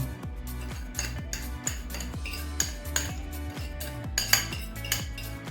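A utensil stirs marinade of oil and salt in a dish for oven-baked meat, giving repeated light clinks and scrapes against the dish over a steady rhythmic background.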